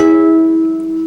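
A guitar in a special tuning sounds one sustained chord, the fifth in a chord exercise, ringing steadily and fading only slightly over about a second, with no voice.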